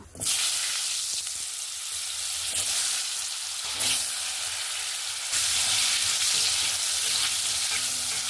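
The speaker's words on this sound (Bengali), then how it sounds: "এবার আমি আলুগুলোকে ভেজে নেব" Potatoes fry in hot oil in a wok, giving a loud, continuous sizzling hiss close by, with occasional surges as they are stirred and turned.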